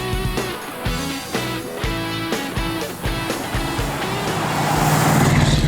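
A car driving through fields in southern Indiana: a steady, close engine drone with rhythmic bumps and gear-like shifts in pitch, building slightly louder toward the end, with no talking.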